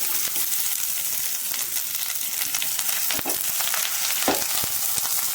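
Small onions and dried chilies sauté in a little oil, a dense, even crackling sizzle that runs throughout, with a couple of brief utensil knocks and no voices.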